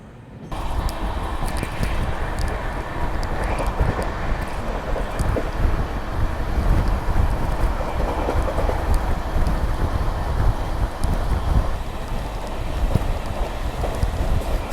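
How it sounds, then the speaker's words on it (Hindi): An Amrit Bharat sleeper train pulls out of a station with a continuous low rumble and rolling rail noise, mixed with wind buffeting the microphone. The sound holds fairly loud and even throughout, with no voices. "5 मिनट के हॉल्ट के बाद यहाँ से डिपार्चर हो गया अपना"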